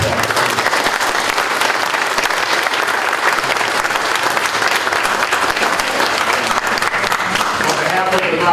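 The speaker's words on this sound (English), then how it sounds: "let's just give our panel and our moderator a round of applause" An audience at a community forum on immigration on Martha's Vineyard applauds the panel and moderator, with loud, steady, dense clapping throughout and some crowd noise mixed in.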